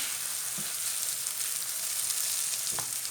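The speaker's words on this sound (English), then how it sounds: "we need to stir fry this rice for a couple of minutes at least, just to fry it with the butter." Rice stir-frying in butter in a pan for a chicken and chickpea pilaf gives a steady, close broadband sizzle, with a couple of soft scraping stirs.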